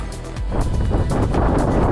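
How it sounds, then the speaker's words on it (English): Strong wind buffeting the microphone high on Mt Barney, a loud continuous low roar with gusty surges and no speech. "It's a little bit windy up here."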